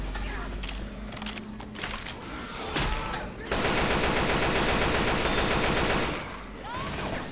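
An AK rifle in the Left 4 Dead 2 video game fires bursts of automatic gunfire, dense and sustained through the middle, with scattered shots and game noise before and after.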